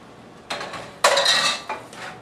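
Steel cut risotto rice being stirred with stock in a metal pan, giving two bursts of scraping, clinking utensil-on-pan sounds, the second longer and louder, with no talking.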